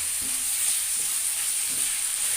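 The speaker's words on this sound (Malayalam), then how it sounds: "ഒരു ചെറിയൊരു കഷ്ണം ക്യാപ്സിക്കം കൂടി ഇടുന്നുണ്ട് അതൊന്ന് നല്ലോണം ഒന്ന് വാട്ടിയെടുക്കാം നമുക്ക്" Capsicum sautés in a pan for leftover biryani rice, giving a steady hiss of frying with a few soft stirring knocks at close range and no voices.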